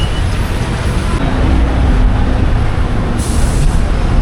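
Traffic rumbles at the busy Chatram bus stand in Trichy, where private city and interstate buses run: a loud, continuous roar of engines and road noise with no clear breaks.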